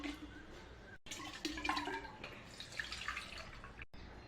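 Water trickles and splashes into a bottle holding amla juice mix, a soft gurgling pour with a brief cut partway through, close and fairly quiet, with no voices.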